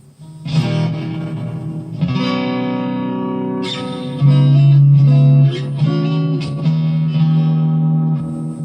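A Jackson DK2 MIJ electric guitar plays a series of clean chords and single notes, each ringing out with a light wash of reverb behind it.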